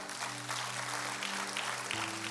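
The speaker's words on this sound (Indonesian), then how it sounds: "Beri tepuk tangan kemuliaan buat Tuhan." A church congregation applauds during an online worship service, a steady, dense wash of clapping that fills the clip, with a sustained organ or keyboard chord held underneath throughout.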